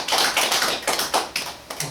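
Audience at a church silver-college gathering clapping, a run of about seven or eight sharp, loud, fairly even claps with brief gaps, close and alone without talk.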